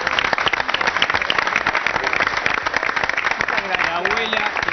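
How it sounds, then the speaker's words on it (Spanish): Studio audience of a television program gives strong applause to welcome a guest, close, crisp individual claps forming a loud steady patter, with voices calling out faintly near the end. "Vamos a recibir con un fuertísimo aplauso"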